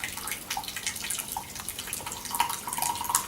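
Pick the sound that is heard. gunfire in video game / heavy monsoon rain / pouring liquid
pouring liquid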